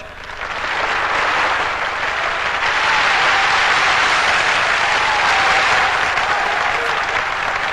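Sustained audience applause fills the whole stretch, a dense steady wash of many hands clapping at a concert stage show, loud and continuous without pause.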